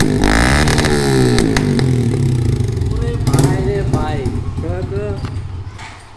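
A Suzuki motorcycle's exhaust revs hard up close, the engine climbing and falling in pitch as the throttle is blipped, with someone talking over the later part.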